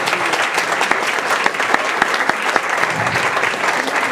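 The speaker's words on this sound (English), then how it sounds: "let's have one more round of applause for the professionals" Dense, close audience applause following a Polish folk dance performance, steady clapping with sharp individual claps standing out, no voices over it.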